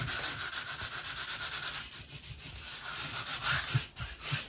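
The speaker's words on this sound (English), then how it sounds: "I'm just using like a 180 grit sandpaper, just very light, just to smoothen that wall out." Light hand sanding of an interior wall with 180 grit sandpaper, a rhythmic series of close, raspy back-and-forth strokes that pause briefly, then resume less evenly.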